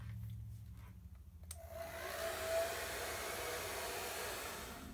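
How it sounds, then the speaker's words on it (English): A handheld blow dryer switches on to dry watercolor paint on paper, a steady close whooshing hiss that rises and holds at an even level after a quiet start. "now I'm just going to speed up the drying time with my blow dryer"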